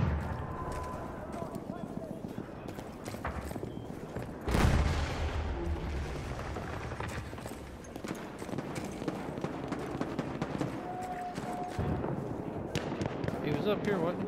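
Battlefield 1 battle noise with rapid crackling gunfire bursts scattered throughout, a loud blast near the middle, distant pops and clatter filling the background while a voice talks over parts of it.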